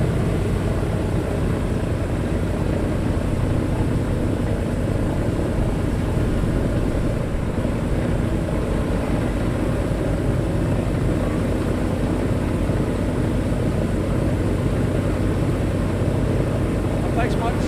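Propeller engines of a Douglas C-54 Skymaster run continuously at Northfield Aerodrome, a dense, steady droning roar throughout, with people talking over the engine noise.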